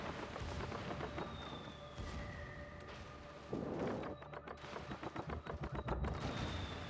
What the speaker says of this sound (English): Just listening to the new bomb sound effect